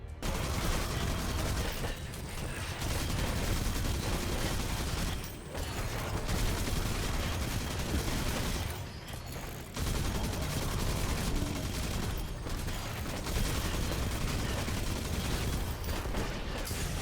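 The Huckleberry submachine gun from Destiny 2 fires in long, dense, sustained bursts, loud and close, with a few brief pauses between strings of rapid gunfire.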